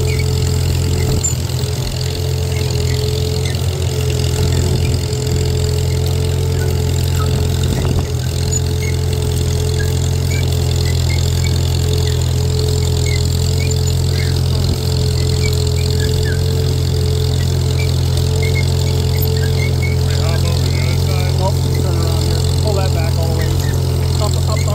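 An old tractor with no fluid or weights in its tires runs steadily while disking a field, its engine a loud, even drone with a constant low hum throughout and faint clicks and rattles above it.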